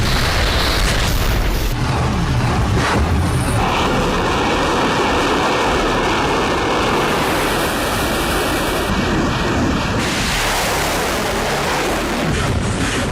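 Bombs and shells explode in wartime footage from Ukraine, a loud, continuous barrage of booming blasts and rumbling roar that overlap with no gaps, dense and overwhelming throughout.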